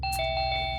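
A home doorbell rings with a clear electronic chime, steady ringing tones over a low hum in a Hindi crime drama scene.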